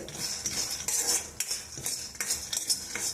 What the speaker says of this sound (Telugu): ఒక గ్లాసు పల్లీలు దూరగా వేయించుకోవాలి మాడకుండా దూరగా బాగా వేయించుకోవాలి